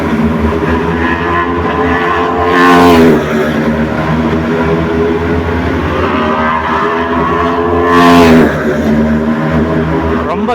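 Formula 4 race cars on a night street circuit in Chennai, a steady loud engine drone with two whooshing passes as cars sweep by, rising and falling in pitch.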